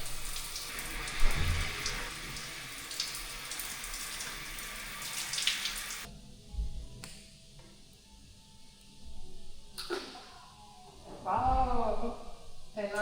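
Shower water runs and splashes in a gym washroom before a jacuzzi, a broadband hiss that cuts off partway through, followed by quieter drips and splashes with people talking.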